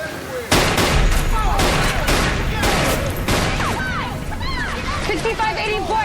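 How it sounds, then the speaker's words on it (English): Rapid bursts of gunfire crack through a tense police drama scene set in Chicago, with several loud volleys and echoing reports layered over shouting voices and chaotic background noise. "Boyd, shots fired at the police."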